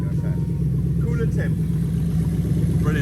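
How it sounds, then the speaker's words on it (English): Toyota UZ-FE VVT-i V8 with an adapted plug-and-play wiring harness running steadily at a low, rumbling idle, close and loud, with someone talking over it; no clear rev rise. "Let's give it a rev so you can see"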